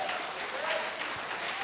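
Church congregation clapping in sustained applause, a dense even patter of many hands, moderately distant and fairly quiet, with a voice faintly audible underneath.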